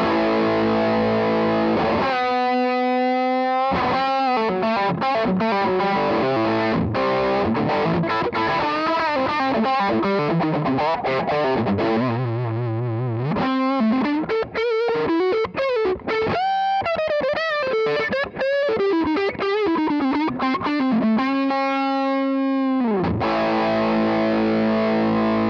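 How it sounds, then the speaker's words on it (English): A Marshall Haze 40 combo amp plays through its overdrive channel with the boost engaged, loud distorted guitar riffs and sustained notes alternating with choppy palm-muted passages, played alone without talk. "And now with the boost, change it to this."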